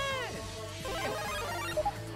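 A mobile phone ringtone in an SMG4 Mario cartoon plays a bright, tuneful melody of layered tones. It runs steadily at moderate loudness for about two seconds, with a couple of brief higher chirps near the end.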